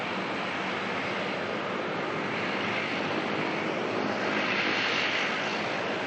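An airplane departs at night from Auckland Airport, its engine roar a steady, broad rumble at moderate distance that swells slightly near the end, with no talk.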